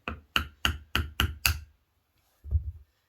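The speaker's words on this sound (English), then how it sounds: "I might use a little hammer here." A small hammer taps on a stapled upholstered seat cushion during reupholstery: six quick, evenly spaced sharp knocks, then a pause and one final tap, close and fairly quiet.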